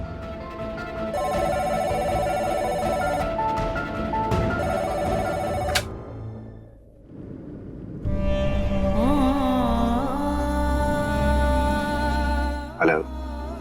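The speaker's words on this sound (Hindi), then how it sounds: "इस टाइम किसका फोन आ गया?" A telephone rings in a drama scene with a steady repeating tone over background music, breaking off briefly before another ringtone-like melody comes in loud and close.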